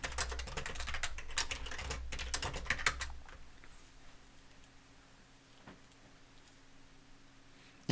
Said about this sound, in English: You're listening to the old keyboard.